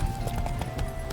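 Hooves of Roach, Geralt's horse in The Witcher 3 video game, clop in a quick, even rhythm over a low rumbling game backdrop, with a brief snort in a short, moderately loud burst.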